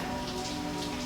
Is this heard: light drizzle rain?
yes